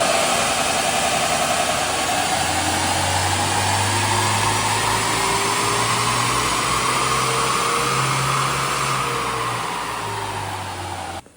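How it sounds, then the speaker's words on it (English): A new car's engine running hard on a dyno, a loud sustained roar with rising tonal whine as revs climb through the run, then easing off sharply at the end, with no talking. "All right, so let's get it right up on the dyno."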